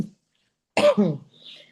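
A single harsh cough bursts out close by after a brief silence, followed by a softer raspy breath or throat sound trailing off.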